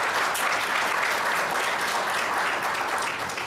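An audience at an academic symposium on international collaboration applauds to thank the staff, a full, even wash of clapping from many people that keeps up throughout and tapers just at the close.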